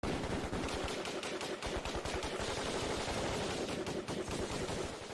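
Constant gunfire in Ukraine news footage, a rapid unbroken stream of shots like machine-gun bursts that stays steady and fairly loud for several seconds.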